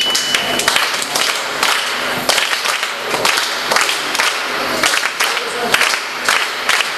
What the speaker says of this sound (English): Can you clap the clave for it?